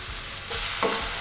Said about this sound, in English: I'm gonna add another tablespoon of oil. Drop in my shrimp. I'm gonna cook my shrimp until both sides are pink.